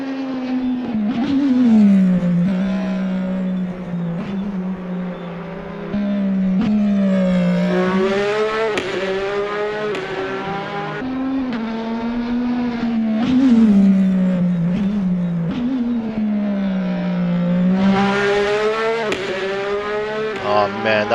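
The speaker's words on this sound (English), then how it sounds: "Man, that car sounds amazing" Race car engines in a sim racing game at Bathurst whine and rev in a continuous stream, pitches rising and falling as cars accelerate and shift, fairly loud with no voices.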